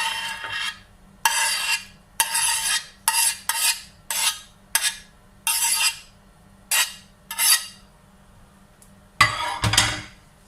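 A spoon scrapes and clinks against a small pan, mixing eggs into fried potatoes, onion and chilli for a Pakistani Spanish omelette, in short repeated bursts separated by brief quiet gaps.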